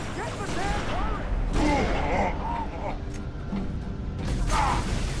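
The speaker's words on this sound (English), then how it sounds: "I'll draw that turret fire." Heavy turret and rifle fire crackle through a Halo 3 battle as sustained automatic bursts and booms, loud and continuous, with shouted voices overlapping the combat.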